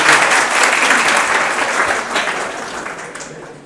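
An audience at a meet-and-greet session in Jaipur applauds loudly for Karan Sir, dense clapping that gradually tapers off over a few seconds.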